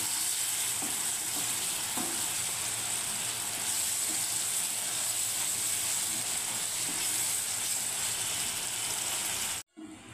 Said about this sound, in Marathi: हे बघा छान असं आता तिला शिजवून घ्यायचं आहे आपल्याला 4-5 मिनिटे